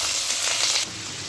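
Potato pieces hit hot oil already tempered with panch phoron and dried red chillies, making a loud, dense sizzle that drops suddenly to a softer hiss near the end.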